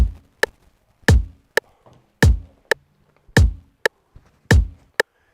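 Dingwall bass plucking short accented notes grouped in alternating threes and fours over seven, sharp percussive attacks with quick decays and gaps between, close and alone.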